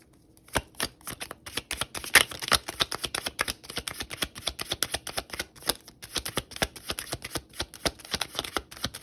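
Tarot cards being shuffled, a long run of crisp riffling flutters and sharp card slaps in close, uneven bursts, with no voice over them.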